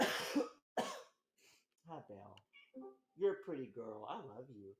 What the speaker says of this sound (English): You guys probably can hear my cat meowing at me.